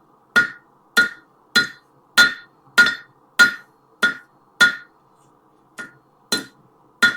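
Sharp metallic hammer blows ring out on an anvil in a steady rhythm, about a dozen loud, bright clanks spaced evenly, with a brief pause near the end and no voices.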